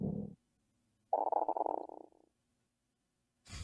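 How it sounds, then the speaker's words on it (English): A hungry stomach growls loudly: a short rumble, then a longer bubbling gurgle that fades, with another brief rumble at the end and silence in between. "It was my stomach growling."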